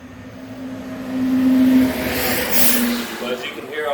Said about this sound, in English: as you can hear all the vehicles going through here